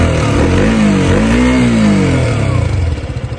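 A KTM Duke 125 BS4 motorcycle engine revs loud and close, rising and falling in pitch before settling into a rough, pulsing idle at the end.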